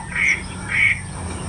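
Two short nasal duck calls, evenly spaced, sounding somewhat distant over steady outdoor background noise.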